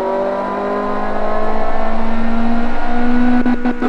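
A car engine revs on a test run in the Automation video game, a loud sustained drone with steady harmonic tones that rises slightly and wavers near the end, with no talk.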